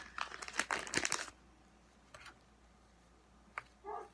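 A plastic evidence bag crinkles and rustles in a burst of handling, then goes quiet, followed by a couple of soft brief rustles.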